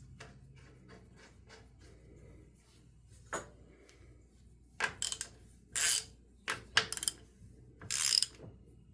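A ratchet clicks and turns while removing a part from a Honda Rancher ATV, with faint quiet ticking followed by several louder, close bursts of metallic ratcheting and clanks.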